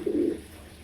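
A single soft low pigeon coo at a farm, close and brief, fading into quiet room noise.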